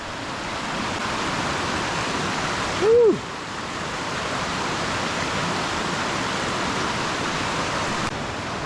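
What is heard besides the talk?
rushing stream at a hiking creek crossing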